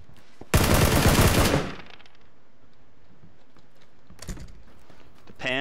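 A loud, rapid burst of automatic gunfire in the battle royale shooter PlayerUnknown's Battlegrounds lasts about a second. After a quiet gap, fainter, shorter bursts of shots follow.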